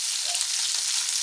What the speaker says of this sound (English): Here is my fish in the meantime my fish is frying.